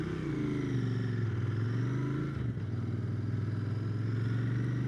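A 2020 Royal Enfield Interceptor 650 engine hums in a steady, close drone while being ridden, with a brief dip midway before the even engine note returns.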